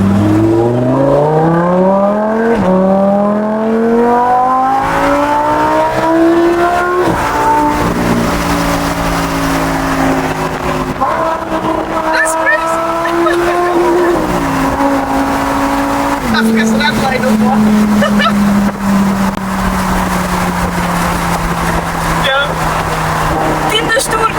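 A Lamborghini Huracan Spyder LP610 with a 5.2-liter V10 revs loudly nearby, its exhaust note rising in repeated sweeping pulls and dropping back between them, alone and sustained throughout.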